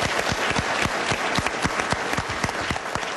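An audience at a town hall meeting breaks into brief, close, steady applause with many overlapping claps.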